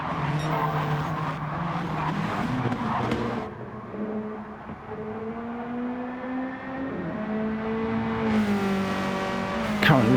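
Race cars in Gran Turismo 7 during a Swift Cup online race, engines droning and shifting pitch as they run close together, with tyre noise and a louder car sweeping past near the end, under steady commentary.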